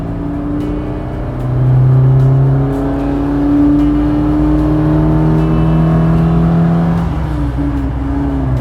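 Classic Volvo Amazon 123 GT accelerating on a winding Swedish road, its engine droning steadily with rising tone as it picks up speed, heard from inside or close by, continuous and moderately loud.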